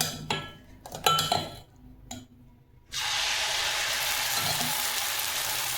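Dosa batter is poured onto a hot dosa tawa. Metal clinks and scrapes come first, then a steady loud sizzle starts and holds to the end.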